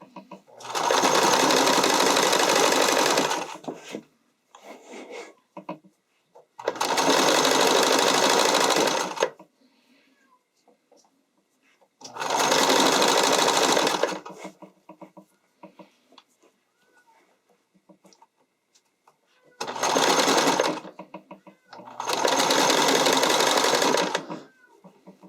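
Sewing machine stitching an underwire bodysuit, running in five loud sustained bursts of a few seconds each, separated by quieter pauses with small handling noises.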